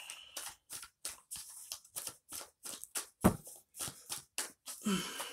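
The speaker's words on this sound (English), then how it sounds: "Let's clear these cards. Shuffle." Tarot cards are shuffled in quick, crisp bursts, a rapid series of close riffling swishes with short pauses between them.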